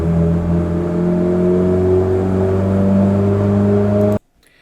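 A Ford Fiesta Zetec engine held at a steady 3000 RPM during FuelTech tuning, a loud constant droning tone close by that cuts off abruptly near the end.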